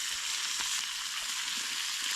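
Strips of bacon fry over an open campfire in a snowy camp, giving a steady close sizzle and crackle that runs without a break.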